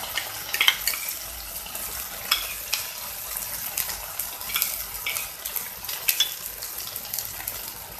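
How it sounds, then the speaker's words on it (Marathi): A masala paste with browned onions fries in oil for a shark fish curry, giving a moderate hiss. Frequent spoon scrapes and clinks against the pan come through as the mixture is stirred. "हे वाटप 5 ते 7 मिनिटं तेलामध्ये व्यवस्थित भाजून घ्यायचं आहे।"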